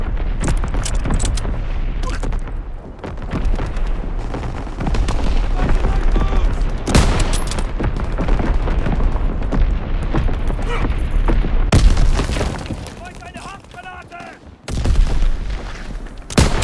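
Artillery battery firing in the World War II shooter Call of Duty: WWII, a dense, loud run of booms and gunfire blasts that rolls on almost without pause, with a sharper burst near the end.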